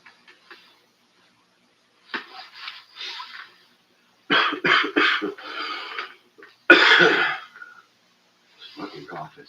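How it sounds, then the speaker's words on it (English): A man coughs in harsh, rasping bursts, several close, loud fits separated by silent pauses, with a hoarse throat-clearing quality and no other sounds around. "Fucking cough is kicking my ass."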